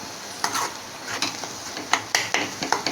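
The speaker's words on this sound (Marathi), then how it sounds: "मंडई जर झाऱ्याने अशी मॅश करून घ्या तुम्ही" Onion for egg bhurji being mashed with a slotted spoon in a pan: close, irregular scraping and tapping of metal against the pan over a light sizzle, several quick strokes in a row.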